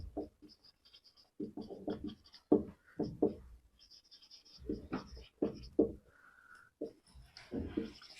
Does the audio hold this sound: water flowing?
no